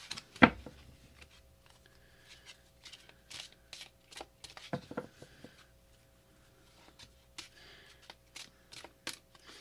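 Oracle cards from a Messages from Heaven deck being shuffled, giving soft, irregular riffling bursts and light taps, close and fairly quiet, with no talking.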